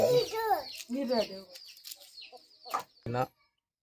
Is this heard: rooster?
yes